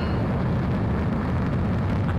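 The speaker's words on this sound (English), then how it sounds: "That's a confirmed direct hit by the missile." A missile explosion in the video game Ace Combat 7 gives a loud, sustained low rumbling roar that stays dense and continuous throughout, with no talk over it.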